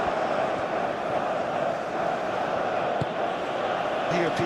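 A stadium crowd in the football game PES 21 roars with a dense, steady wash of cheering during a Colombia vs Ghana World Cup match, loud and continuous, with commentary voices mixed in.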